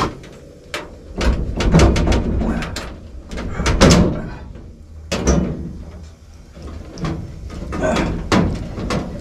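Access door panels on a Rheem forced-air gas furnace being opened, giving several sharp metallic clanks and scrapes spread across the stretch, close by, with people talking in between.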